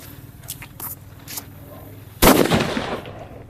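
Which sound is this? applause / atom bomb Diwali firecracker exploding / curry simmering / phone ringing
atom bomb Diwali firecracker exploding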